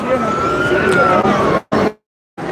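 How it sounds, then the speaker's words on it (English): A wailing siren rises and falls steadily at the start of the Grand Illumination Parade in Norfolk, Virginia, then cuts out abruptly in two breaks near the end, with a brief burst returning between the silences. "Look, I hear the siren,"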